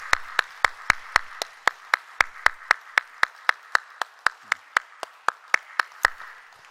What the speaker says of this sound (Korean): 찬양단 감사와 격려의 박수 하겠습니다.